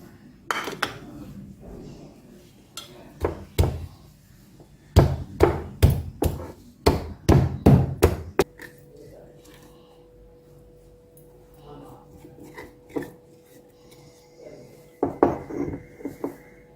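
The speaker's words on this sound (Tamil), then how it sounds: "பூண்டு இடித்து போட்டுக்கலாம்" Garlic being pounded with a pestle for a bitter gourd fry, sharp wooden thuds coming in irregular clusters, a dense rapid run in the middle and a few more strikes near the end, with quiet kitchen noise between.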